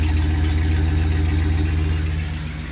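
A 1976 Dodge W200 4x4 truck engine idling, a loud, steady, rumbling idle close by with an even low pulse throughout and no talking.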